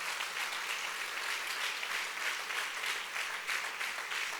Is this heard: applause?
yes